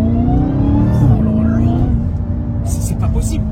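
A car engine revving hard inside the vehicle, a loud sustained drone with rising and falling pitch as the throttle is worked, with a brief high whine near the end and voices talking over it.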